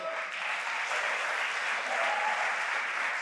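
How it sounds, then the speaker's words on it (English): A live esports crowd at a motorsport games event applauds a competitor walking up to his racing rig, a steady, even wash of clapping that holds at full strength for the whole stretch. "Big round of applause from the audience there"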